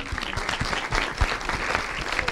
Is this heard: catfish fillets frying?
no